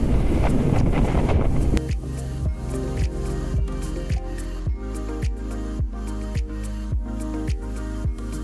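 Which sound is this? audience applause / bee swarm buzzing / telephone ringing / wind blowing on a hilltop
wind blowing on a hilltop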